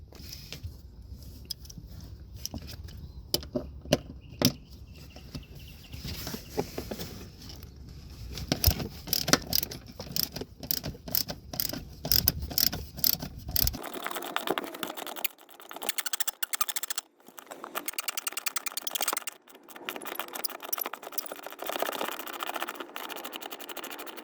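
A ratchet removing a semi truck seat bolt, close rapid clicking in uneven bursts with metallic taps and rattles, continuing in spurts without speech.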